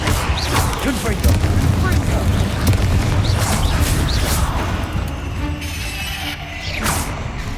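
Confringo fire spell blasts in the game Hogwarts Legacy, loud booming bursts with crackling impacts repeating over dense battle noise and low rumble.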